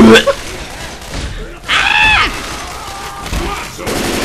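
Gunfire in the video game Left 4 Dead 2 during a Halloween party match, loud shots and thuds mixed with frantic shouting from players talking over the action.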